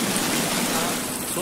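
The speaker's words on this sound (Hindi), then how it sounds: "अबे पानी का आवाज इतना तेज है ना।" Loud, steady rush of heavy rain and running water in a jungle forest, a dense unbroken wash of noise that fills the whole moment without pause.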